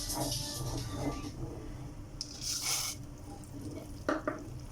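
Boondi being stirred into boiling curry in a pot: a soft, continuous scraping and bubbling with a few louder clinks and stirs, fairly faint.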